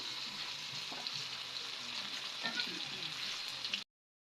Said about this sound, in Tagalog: Ginisang talbos. Tapos talong.